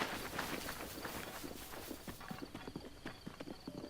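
A horse's hooves clip-clop at a steady walking rhythm in the video game Breath of the Wild, close and clear, with a continuous background wash under the repeated hoof strikes.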